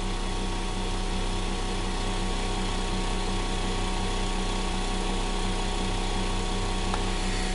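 A single-phase pulse motor generator running on 12 volts at just above 1 amp gives a steady, unbroken electrical hum and whir with a constant tone, alone and without pauses.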